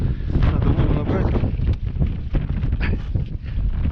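Strong wind buffeting the microphone at a fishing spot, a continuous heavy low roar with gusty swells and no pause.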